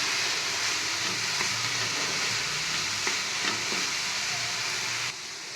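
Carrots are added to a pan with onions and stirred as samosa filling, giving a steady, close sizzle with occasional scraping taps of the spoon against the pan, ending abruptly.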